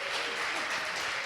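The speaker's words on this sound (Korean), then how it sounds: "박수 좀 해줘." Brief, steady applause from a church gathering audience, a dense, even wash of clapping with no talk over it.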